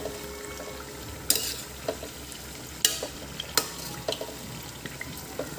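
Samosas deep-frying in hot oil for a halwai-style recipe, a low continuous bubbling hiss broken by several sharp clinks and scrapes of a slotted spoon against the pan, close up.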